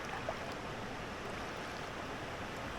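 Moyer Creek flows in spring as a steady, soft rushing wash of water, quiet and continuous with no voices.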